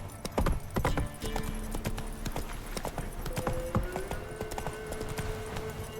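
Roach, a horse in The Witcher 3 video game, with steady hoofbeats clip-clopping close by, irregular thuds alongside faint tonal game sounds.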